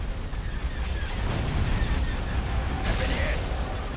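Heavy rumbling laser cannon fire in Star Wars: Imperial Civil War, with booming blasts and broad noisy bursts, continuous and loud, like intense cannon fire in a game.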